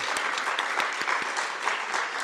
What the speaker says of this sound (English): I would like to thank and applaud both speakers.